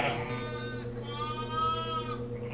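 A sheep bleats during lambing season, two close, drawn-out wavering calls back to back in a quiet barn.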